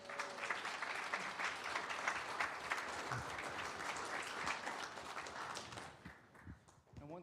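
An audience at a county board meeting applauds an award winner receiving a certificate, a steady burst of many hands clapping at moderate distance that thins out toward the end.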